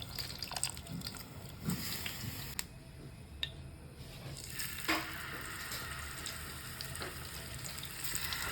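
Faint, steady sizzling of fish frying in oil, with occasional small pops and crackles.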